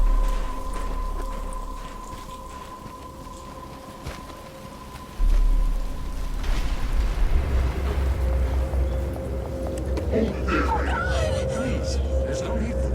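Rain beginning to fall in Batman: Arkham Asylum, a steady hiss of rainfall with low rumbling that swells partway through, while characters talk over it and occasional thumps sound nearby.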